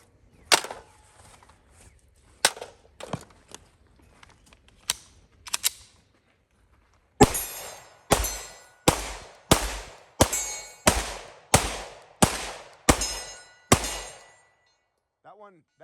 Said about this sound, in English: We're gonna shoot more.